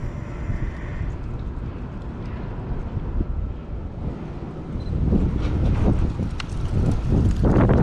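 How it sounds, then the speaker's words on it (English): Wind buffets a microphone outdoors at night, making a steady low rumbling roar that grows louder and gustier in the second half. "Wind, oh shit."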